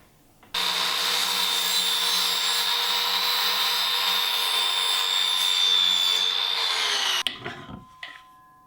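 A power saw cutting through PVC pipe, a loud, sustained whining buzz that starts abruptly and runs steadily for about seven seconds, then stops, followed by a few brief clatters and handling noises.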